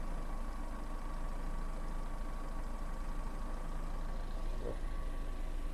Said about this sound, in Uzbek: mashinamiz soatda qimirlamay ishlab turibdi